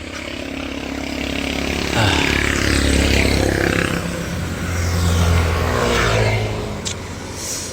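Cars pass along a busy street, their engines rising and fading with low rumbling and occasional revving, while people talk over the steady traffic noise.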